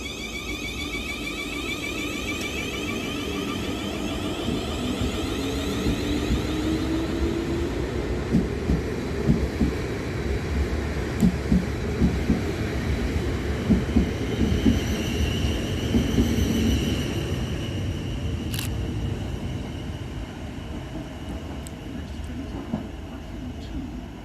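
South Western Railway train 444012, on the 0803 London Waterloo to Weymouth service, rumbles steadily through Havant station. A sustained, fairly close wheel and motor roar swells and fades, with a sharp metallic click near the end.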